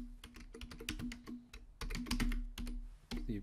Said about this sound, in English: My typing is still horrific